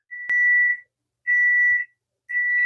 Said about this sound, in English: as you can hear, the timer's going off for the second one